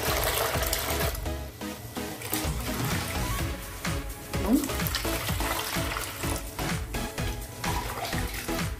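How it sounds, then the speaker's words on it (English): Water pours into a container for making liquid soap, a continuous splashing rush with gurgling pulses, close and fairly loud. "I'm going to put some 2 liters of water here, 2 liters of water here and here"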